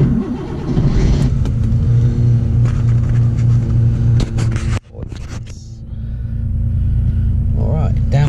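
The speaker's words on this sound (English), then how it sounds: "Let's get you some cool Porsche noises." A Porsche engine revs loudly and close, a rumbling drone that swells, cuts off abruptly for a moment, then builds back up to a steady roar.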